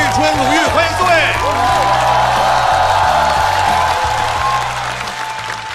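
A studio audience at a stand-up comedy talk show breaks into sustained, dense applause that stays loud throughout, with a voice speaking over the clapping.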